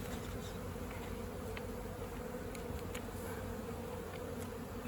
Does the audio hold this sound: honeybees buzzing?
yes